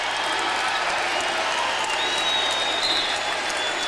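A basketball arena crowd roars and applauds during a college game, a dense, loud, continuous wash of cheering and clapping, with a faint whistle-like tone rising briefly partway through.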